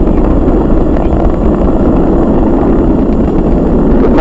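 SpaceX Falcon 9 rocket engines throttling down during a crewed launch, heard as a loud, steady broadband rumbling roar with no break.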